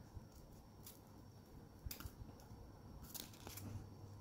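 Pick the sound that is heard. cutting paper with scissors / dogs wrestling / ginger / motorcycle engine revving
cutting paper with scissors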